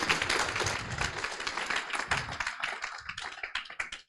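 An audience applauds at a climate startup pitch final, a close, lively burst of many hands clapping that gradually thins toward a few scattered claps at the end.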